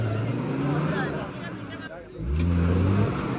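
A Mahindra Thar in an extreme mud challenge revs its engine in rising surges, dips briefly, then revs hard again, close by and partly under someone talking.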